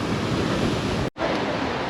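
Ocean surf on a beach roars as a steady, loud wash of wave noise with wind buffeting the microphone, cut by a brief dropout near the end.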